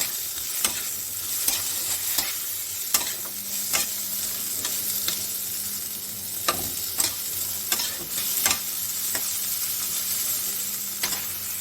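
Green chillies and tomato sizzle in a pan with a constant hiss, broken by frequent sharp taps and scrapes of a spatula stirring, close by and without voices.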